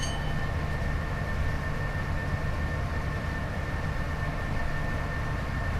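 Class 87 electric locomotive from Train Sim World 6 running steadily, a continuous broadband rumble with a faint high whine, unchanging and alone with no talk.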